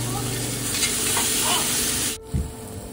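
Tomato with turmeric and Kashmiri red chilli powder frying in a pan, a dense steady sizzle with spoon scraping that cuts off abruptly near the end, followed by a soft thump.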